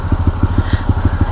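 A superbike thumps along a highway with a regular, rapid engine pulse, loud and close, over a wash of wind and road noise.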